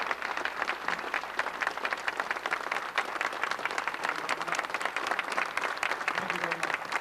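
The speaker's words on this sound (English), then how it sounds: "I encourage the applause." Sustained audience applause fills a large room at a 1992 Adirondack Park centennial celebration held in an air museum, a steady dense patter of many hands clapping with faint voices mixed underneath.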